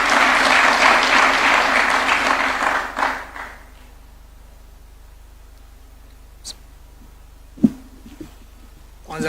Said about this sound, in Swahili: Tumpigie makofi akija.